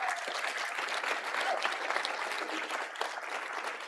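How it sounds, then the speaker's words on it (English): An audience at a bulk freight industry conference breaks into applause, a continuous, even wash of many hands clapping heard at a moderate distance, with no speech over it. "give a big round of applause for Tyler Allison"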